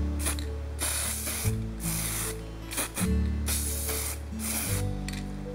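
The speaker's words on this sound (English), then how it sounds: "we do a nice blue coat straight over the top" An airbrush sprays a blue coat over the top of a handmade surface fishing lure in repeated short hissing bursts, close and steady, with mechanical clicks between passes.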